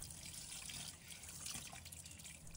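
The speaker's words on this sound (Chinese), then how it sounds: "用流动水把表面的粘液清洗干净" Running tap water streams and trickles softly into a sink while a sea fish is rinsed clean of its slime, a faint, steady wash heard close.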